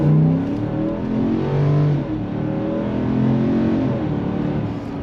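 Ford F-150 pickup with a 5.0 Coyote V8 revved hard toward 7000 RPM, a loud, close engine note that climbs and falls in several sweeping pulls with no talk over it.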